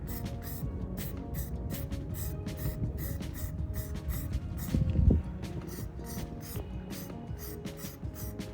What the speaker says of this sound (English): So spray lightly. Be 6 inches away from the curb.